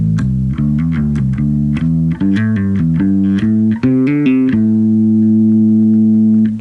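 An electric bass guitar runs quickly through three measures of hammer-on and pull-off note groups, close and loud with a smooth legato flow, ending on a held low note.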